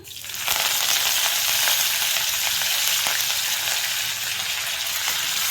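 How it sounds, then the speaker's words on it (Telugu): Mustard seeds, cumin, dry red chillies and curry leaves dropped into hot oil in a kadai: a sudden loud burst of crackling sizzle that holds steady and close, with no speech. "ఆయిల్ హీట్ అయిన తర్వాత ఆవాలు, కొద్దిగా జీలకర్ర, ఎండుమిర్చి అలాగే కొద్దిగా కరివేపాకు వేసి"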